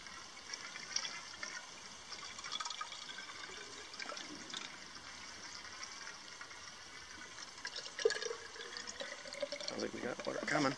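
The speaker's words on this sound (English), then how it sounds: "Sounds like we got water coming." Water rushes faintly and steadily while a boat named the Marlin is bailed with a mud pump, a low continuous hiss and splash under people talking.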